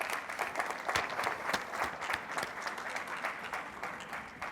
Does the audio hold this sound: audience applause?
yes